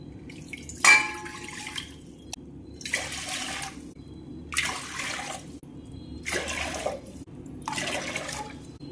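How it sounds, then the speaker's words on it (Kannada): Five separate pours of water into a pressure cooker, each a splashing gush lasting about a second, spaced evenly with quiet gaps between them, close and alone. "ಈಗ 5 ಗ್ಲಾಸ್ ನೀರು ಹಾಕಿದೆನು"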